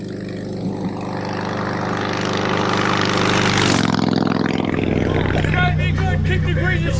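A Royal Enfield Classic 350 motorcycle engine pulls steadily while riding, rising in pitch before dropping back at a shift, then running on under heavy wind rush, loud and close, with a voice faintly audible late on.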